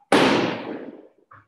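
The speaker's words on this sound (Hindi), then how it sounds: "कई सारे पटाखे अभी भी फूट रहे हैं" A loud Diwali firecracker bursts with one sharp blast that decays over about a second, followed by a smaller distant pop.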